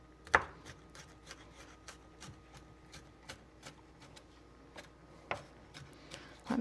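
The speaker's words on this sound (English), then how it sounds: "of chopping the garlic." Garlic cloves chopped by hand with a knife on a board for homemade Italian pasta sauce, a steady series of light, crisp taps close by, with a couple of louder knocks, no talking.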